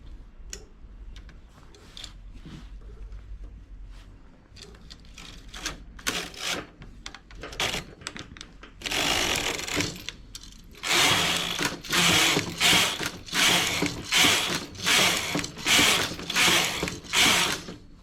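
A knitting machine carriage is pushed back and forth across rows, giving rapid mechanical clacking and ticking bursts that grow louder and denser, close by with no voices.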